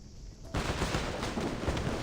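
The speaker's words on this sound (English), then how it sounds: "The sound of gunfire echoes from outside the courtyard." Gunfire erupts outside a courtyard in the video game Reverse: 1999. A quiet lead-in gives way to a sudden loud, sustained burst of rapid shots that continues to the end.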